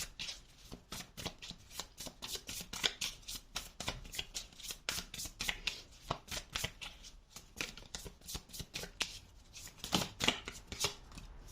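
Tarot cards shuffled by hand, quiet crisp riffling and flicking in rapid irregular bursts close by, continuing steadily with no talk.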